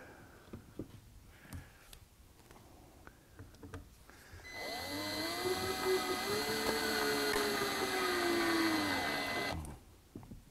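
A power driver runs a screw into a Shaker stool during assembly: a rising, straining motor whine that lasts about five seconds, loud and close, between quieter handling knocks and clicks.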